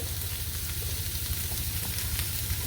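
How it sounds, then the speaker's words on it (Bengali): Potatoes sizzling steadily in a hot pan with oil, a dense, even frying crackle close up with faint stirring and no voices. "আমি ভালো করে আর কি আলুটা একটু ভেজে নিব"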